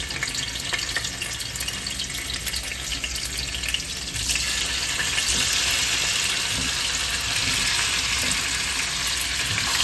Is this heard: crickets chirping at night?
no